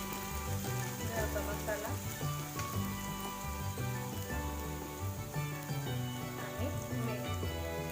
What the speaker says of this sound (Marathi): हे पण आपण छान फ्राय करून घेणार आहे